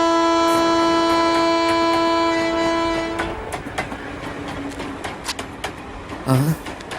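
A train blasts a long, loud horn for about three seconds. Rumbling wheel clatter and sharp rail knocks follow as it moves along the tracks, with a brief louder burst near the end.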